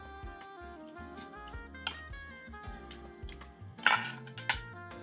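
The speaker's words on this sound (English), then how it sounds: "to pull your fork and a knife and you dig into it" A fork and knife clink and scrape against a plate while seared lamb chops in masala sauce are eaten, scattered light clinks over a quiet background, with one louder clatter near the end.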